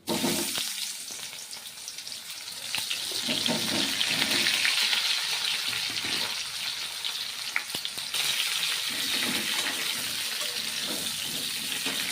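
Cauliflower hits a pan of hot oil and fries with a loud, continuous sizzle that swells after a few seconds and keeps crackling steadily, with faint stirring noises close by.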